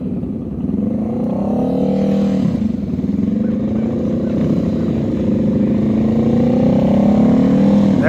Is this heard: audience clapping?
no